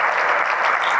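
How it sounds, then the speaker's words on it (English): Brief, steady burst of audience applause in a theatre main-stage session, continuous dense clapping with no speech. "Can we just have a huge round of applause for everybody?"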